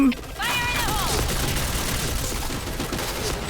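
Rapid bursts of gunfire in the video game Point Blank crackle steadily beneath someone talking in Thai, with a brief whining tone near the start.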